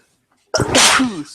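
A single loud, sharp sneeze bursts out after a moment of near silence, close to the listener.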